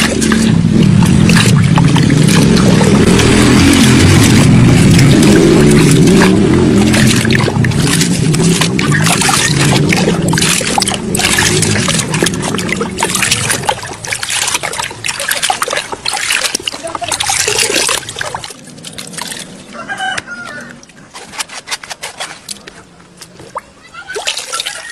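Moringa leaf liquid fertilizer is stirred in a container of water, giving loud, close sloshing and swirling that fades after the midpoint to lighter trickles and splashes.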